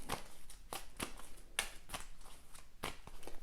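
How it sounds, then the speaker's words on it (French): A deck of game cards for the board game Arkham Horror is shuffled up close, with a series of crisp riffling and slapping bursts in a quick, uneven rhythm and no talk. "Et je vais mélanger aussi mon deck"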